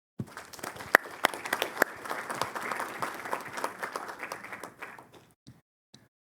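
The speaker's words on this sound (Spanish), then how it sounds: "Un fuerte aplauso, por favor." Audience at a civic education report event giving applause: a smaller group clapping with distinct individual claps, building briefly and then tapering off to a few scattered claps before stopping.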